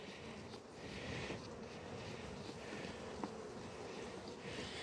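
Honey bees buzz around an open comb hive frame during a queen grafting workshop, a steady, close, continuous hum with a faint tap or two.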